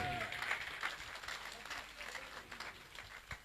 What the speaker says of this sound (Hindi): एक बार जोरदार ताली कलम जी के लिए भी होनी चाहिए।